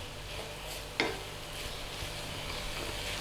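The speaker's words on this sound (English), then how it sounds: "Let's cook that bit of an egg in there." Eggs cook in a pan for a Chinese tomato and egg stir-fry, giving a quiet, steady sizzle with one brief scrape or clink of a utensil.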